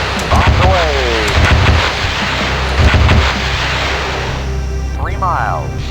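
Bombs burst in the combat flight game Fighters Anthology, a series of deep booming rumbles over steady engine roar, with a voice talking over them.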